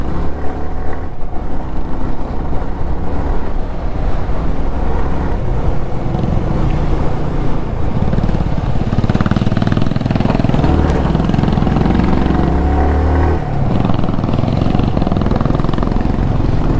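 A motorcycle rides on a road between Wayanad and Ooty, its engine a loud, steady close drone throughout, with rumbling and some wind noise.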